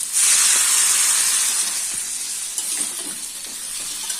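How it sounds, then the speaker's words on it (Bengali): Water poured into a hot cooking pot of potatoes, tomatoes and drumsticks hits with a loud rushing hiss that settles into a softer steady sizzle with faint clinks. "জল দিয়ে দিচ্ছি,"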